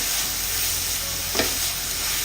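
Chopped cabbage and carrot fry in a pan while being stirred, a steady close sizzle with a brief scraping stir partway through, no talking.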